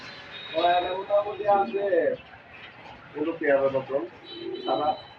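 At a pigeon farm, pigeons give repeated throaty coos in two main clusters, fairly close and moderately loud, with people's voices talking nearby.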